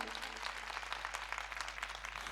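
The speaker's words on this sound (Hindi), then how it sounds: "बजाओ उनके लिए एक बार ताली।" Faint, distant applause from an audience at a religious storytelling session, a continuous patter of many hands heard at low level throughout.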